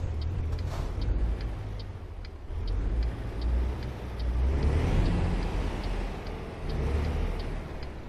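A truck engine in American Truck Simulator labours through a downshift, with a rumbling low drone that surges and dips in a few waves while a steady ticking indicator clicks along in the background.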